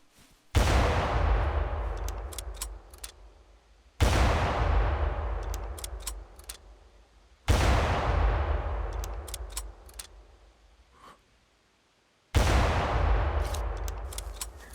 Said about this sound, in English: you just gotta say screw it and break out the rifle